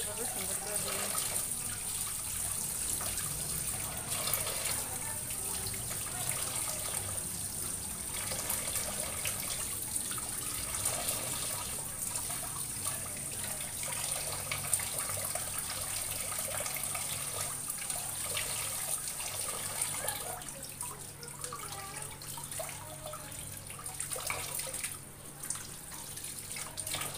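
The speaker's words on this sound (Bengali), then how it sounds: "আমি এক পিস করে মাছগুলোকে এভাবে সুন্দর করে ধুয়ে নিচ্ছি।" Tap water runs steadily over pieces of fish being washed by hand, a constant close splashing hiss with light trickles, while a person talks at times.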